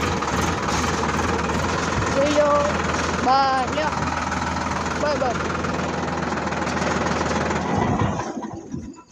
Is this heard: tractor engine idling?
yes